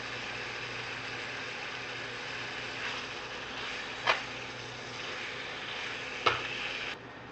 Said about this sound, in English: Just going to get everything all nice and combined and brown